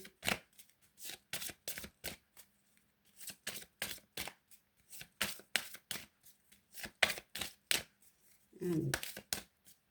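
Oracle cards being handled and drawn, giving a run of crisp, dry card flicks and snaps in uneven bursts, close and moderately loud, with a brief soft rustle near the end.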